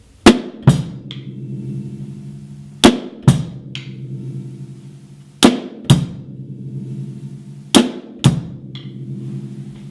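Drum kit playing an isolated part of a simple beat, with paired strikes on the 2 and the and of 3 landing in a steady repeating pattern, each hit ringing out over a sustained low drone between them; no talking.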